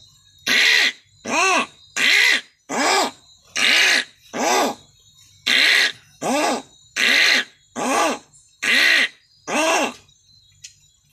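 A man mimics a frog croaking with his voice, producing about eleven loud, close, evenly spaced croaks, each a short nasal burst separated by brief silences.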